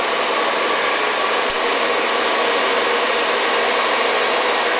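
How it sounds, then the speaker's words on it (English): A professional hair dryer blowing continuously, a loud steady rushing whir held at the same level throughout with no pauses, close to the listener. "Some professional dryers these days have a cold shot button."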